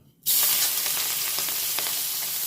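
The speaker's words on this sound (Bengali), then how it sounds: "এবার চিংড়ি মাছটাকে আমি হালকাভাবে ভেজে নেব" Prawns rubbed with salt and turmeric hit hot oil in a wok and fry lightly, a sudden loud sizzle that starts after a brief quiet moment and then holds steady and close.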